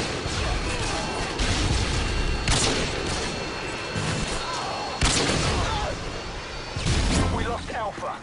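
Predator missile strikes and battlefield explosions in Call of Duty: Modern Warfare 2, heavy booming blasts and crashing impacts over constant gunfire, with game radio voices speaking throughout.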